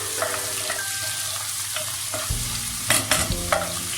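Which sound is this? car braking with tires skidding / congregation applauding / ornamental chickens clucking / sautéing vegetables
sautéing vegetables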